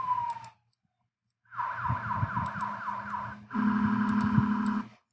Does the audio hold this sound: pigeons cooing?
no